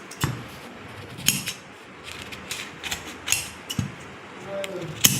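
Scissors cut a cloth panel for loose pyjamas on a tailoring table, giving soft, irregular snips and clicks close by with a faint background hiss.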